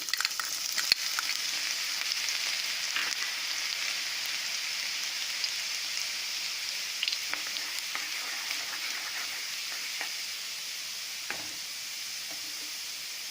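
Hot oil sizzles and crackles steadily and close up as garlic fries, a dense hiss broken by occasional pops, with no talking.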